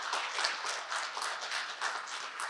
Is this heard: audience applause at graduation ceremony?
yes